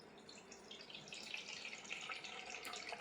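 Plain tap water pours steadily into an empty alkaline water jar, a continuous close splashing and trickling hiss that builds slightly in level as the jar fills.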